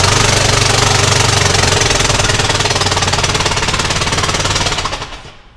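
Car engine started after repair work and left running, a loud, rough rhythmic clatter with steady knocking pulses that fades near the end.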